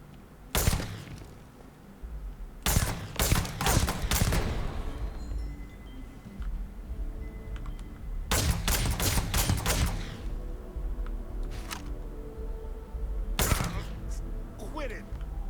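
Gunfire from a two-shot weapon in the Starfield video game comes as loud clusters of rapid cracks separated by quieter stretches, with a person talking between the bursts.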